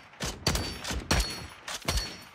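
Video game gunfire, a three-shot weapon, fires in loud, punchy bursts, about five heavy shots spaced irregularly over a couple of seconds, close and dominant with no talk.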